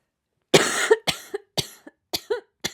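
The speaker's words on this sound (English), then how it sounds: "oh, I got a cough." A person coughs in a quiet room, one longer cough followed by a series of short, sharp coughs, close and clear with silence between.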